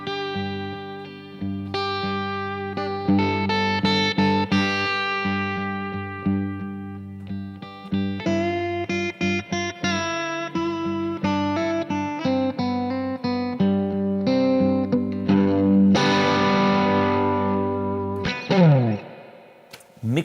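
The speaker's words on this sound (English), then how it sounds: "Mixolydian, that's the sound of Mixolydian." Electric guitar run through effects such as distortion, chorus and echo plays a Mixolydian dominant 7 lick, with busy bright notes and short stabs over a sustained low bass tone, close and loud for about twenty seconds.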